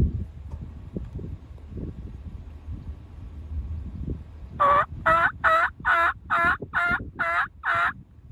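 After quiet rustling and wind, a nearby wild turkey lets out a rapid series of about eight sharp calls in a quick, even rhythm.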